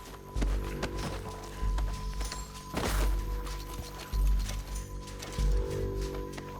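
Horse hooves thudding in irregular heavy clip-clop beats in Red Dead Redemption 2, close and loud over a low background hum, with a brief burst of noise midway.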